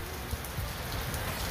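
Heavy rain falls steadily, a dense, even hiss of drops striking surfaces close by, with no voices over it.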